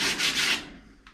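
Abrasive strokes rasp across a car firewall as a sanding block is worked back and forth, three quick close rubs followed by a fainter short one.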